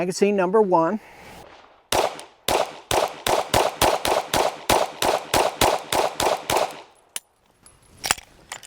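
A PSA Micro Dagger pistol fires a full magazine, about fifteen sharp, loud reports in a steady, quick rhythm, close by. A voice speaks briefly before the shots, and faint metallic handling clicks follow.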